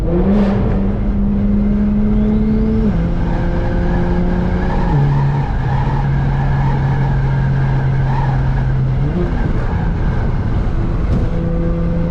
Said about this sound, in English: Got a downshift under the tunnels.